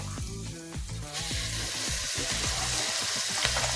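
Gongura leaves hit a hot pan with tamarind for a red-lentil mango dal curry, bursting into a loud, steady sizzle with quick clattering stirs, close and continuous with no talk.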